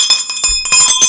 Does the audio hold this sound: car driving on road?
no